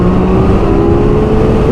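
A 2015 BMW K1600 GT motorcycle with a flashed ECU pulls hard in fourth gear, its loud, steady engine drone running continuously and close up, with the pitch edging slightly upward as it opens up.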